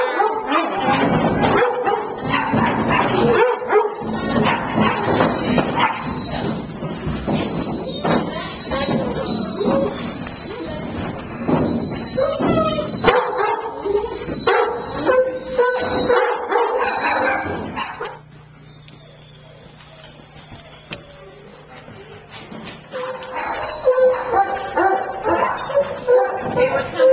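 Stray dogs at an animal shelter bark and yip repeatedly, with whimpers between, close by and overlapping, while people talk throughout; the barking drops off near the end.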